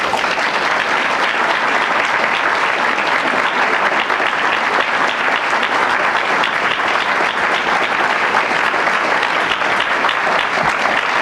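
An audience applauds steadily and loudly for about eleven seconds to welcome Secretary Janet Napolitano at a law school event, with dense clapping throughout and a faint crowd murmur underneath.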